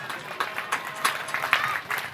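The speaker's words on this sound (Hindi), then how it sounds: "एक बार दोनों हाथ उठाएं, जोरदार तालियां बजाएं और अटल नारायण भाई को माइक पर बुलाएं।" A small audience at a poetry gathering during a Kartik Purnima fair claps briefly, scattered and fairly faint claps in an uneven rhythm over a couple of seconds.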